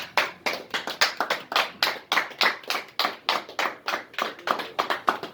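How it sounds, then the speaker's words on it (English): An audience at a political gathering claps for a speaker, producing a steady run of sharp, distinct hand claps with a regular rhythm from a smallish crowd, fairly close and loud, with no talk over it. "A round of applause for him."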